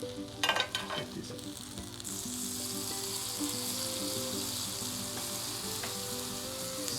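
Peppers roasting in a hot pan sizzle steadily, a close, continuous hiss of frying after a couple of brief clatters at the start, with no talking.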